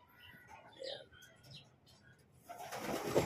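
Racing pigeon back at the loft after a training flight, soft close cooing and faint rustling, followed by a rise of broadband noise near the end, with someone speaking quietly over it.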